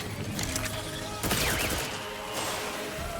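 Rocket launcher fire in Outer Worlds 2 amid busy combat noise: a loud burst of blast energy with a whooshing tail, followed by a second, slightly weaker impact a second later, over constant background game din.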